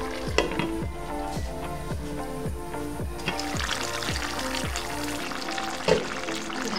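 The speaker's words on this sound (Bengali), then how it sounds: "অল্প একটু গরম পানি আমি এটার মধ্যে দিয়ে দেব।" A little hot water goes into beef cooking with beetroot, and a loud sizzle and bubbling hiss rise up in the pan. Faint clinks come through over steady background music.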